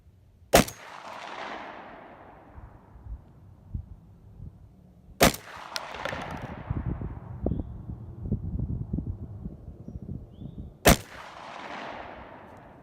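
An Encore Pro Hunter 20 gauge fires three sharp, loud shots several seconds apart at a 100-yard range, each with a rumbling echo, and handling noises fill the gaps between them.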